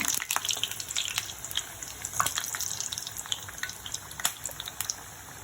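Fish-shaped vegetable samosas frying in hot oil on a lowered gas flame, giving a dense crackling hiss sprinkled with sharp pops and spits, close and continuous, with no talking.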